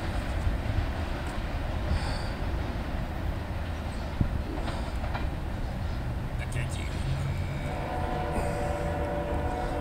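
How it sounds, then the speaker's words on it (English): A very short CSX freight train, Q583, passes northbound through downtown Marshville, North Carolina, on the Monroe Subdivision, giving a steady, loud rumble of rolling wheels throughout, with faint squeals, while voices talk nearby. "was a very short CSX train, Q583, heading northbound through downtown Marshville, North Carolina, CSX Monroe Subdivision"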